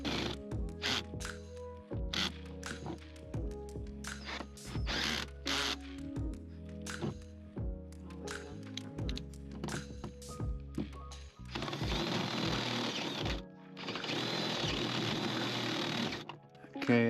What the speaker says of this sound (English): So we're just gonna drill one hole